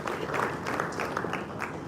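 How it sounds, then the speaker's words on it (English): Audience at a money and investment seminar gives a steady round of applause, a dense wash of many hands clapping at moderate distance, without pause. "Please put your hands together for them one more time."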